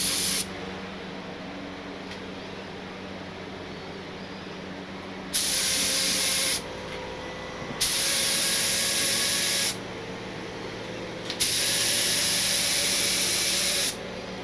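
A Harbor Freight HVLP spray gun lays down Rustoleum paint in three sustained, close hissing bursts separated by short quiet pauses, with no talking.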